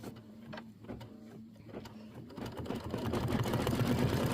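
Embroidery machine tacking down a quilt piece for a Kimberbell seasonal wall gallery: a close mechanical whir and rapid ticking of stitching that starts softly with a few clicks and then settles into a steadier, louder hum.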